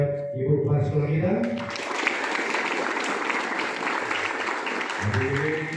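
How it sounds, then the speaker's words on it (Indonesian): A crowd claps steadily for about four seconds at a joint school assembly in Indonesia, loud and continuous, with someone speaking through a PA system just before and again as it ends. "Tepuk tangan kepada Ibu Kepala Sekolah kita."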